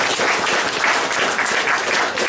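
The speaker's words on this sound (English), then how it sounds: "Give yourselves a round of applause for putting up with this." Lecture audience applauding at the close of an evening science talk on global warming: dense, steady clapping from a large crowd, fairly loud and sustained with no voices on top.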